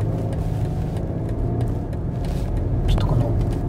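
A BMW X5 SUV runs in sport mode held in a low gear, its engine giving a steady, close, full-bodied drone, with someone talking over it.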